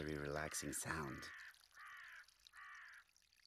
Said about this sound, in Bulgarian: Тук има гарванчета.